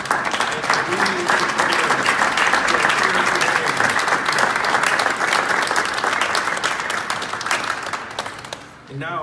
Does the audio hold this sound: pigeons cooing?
no